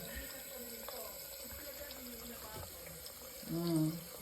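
Running tap water streams into a sink while a cat plays with it, a steady trickle under scattered soft household noises, with a brief louder swell near the end.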